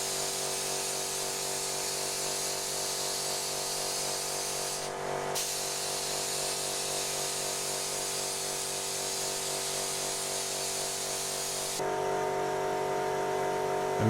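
Spray gun laying 2K paint onto a car's bonnet and wings during a Daihatsu Charade restoration, a steady continuous close hiss with a brief break near five seconds and a louder, brighter burst toward the end.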